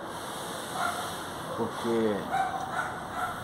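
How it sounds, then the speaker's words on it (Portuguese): Dogs barking at a house where an opossum prowls, a few short yips and barks at moderate distance, mixed under a person talking. "os cachorros ficam doidos, ficam latindo"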